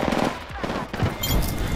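A gun in Apex Legends fires in a rapid, loud, close rattle that runs almost unbroken through a short burst of battle.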